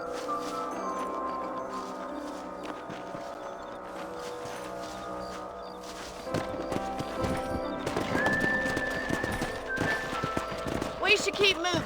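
Horses gallop with steady clip-clop hoofbeats in a Western video game, joined by whinnying and neighing, while characters talk over the hooves as the pace picks up.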